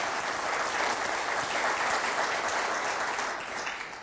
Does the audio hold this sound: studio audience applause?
yes